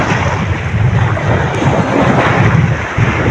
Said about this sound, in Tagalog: grabing kusog ang hangin sa hapon